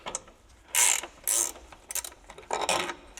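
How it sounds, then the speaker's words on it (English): Mechanical ratcheting bursts from a threaded bar being unscrewed on a subframe bush tool for a VW Group engine subframe split bush, three or four short loud clicking runs separated by pauses, close up with no talk. "We can now unscrew our threaded bar."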